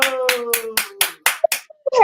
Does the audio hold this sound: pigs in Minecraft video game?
no